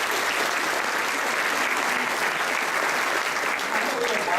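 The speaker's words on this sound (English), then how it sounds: "So give yourselves another round of applause." A large audience at a student awards event applauds, a dense, loud wash of clapping that stays level and unbroken throughout, with possible cheering voices mixed in.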